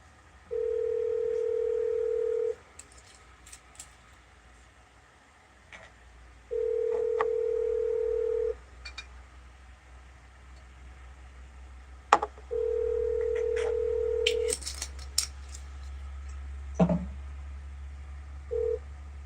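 An unanswered phone call rings back with a steady electronic ringback tone: three long tones about two seconds each, separated by pauses of about four seconds, then a short final blip. A low hum runs underneath, and no one speaks.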